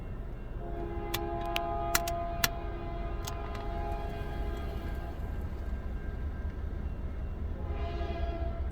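CN freight train S708, led by locomotive 3316 with ES44DC 2243 second, sounds its horn in several short blasts over a steady rumble of passing wheels at Ladysmith.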